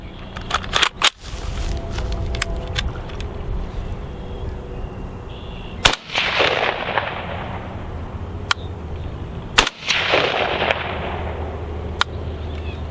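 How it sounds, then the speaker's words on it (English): A Tavor rifle fitted with a Geissele Super Sabra trigger fires two loud outdoor shots several seconds apart, each a sharp crack with a trailing echo, over faint background noise and a few small clicks. "Let's put a few rounds through it right now."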